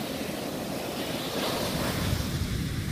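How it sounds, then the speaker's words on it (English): Ocean waves break and wash onto a beach in a steady, loud roar of surf with wind noise over the microphone, and no voices are heard. "It's a big wave!"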